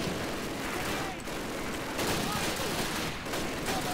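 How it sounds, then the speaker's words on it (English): Sustained machine gun fire in the World War II shooter Call of Duty: United Offensive, a dense, loud, continuous rattle lasting the whole moment with battle noise around it. "Where do I hear an MG?"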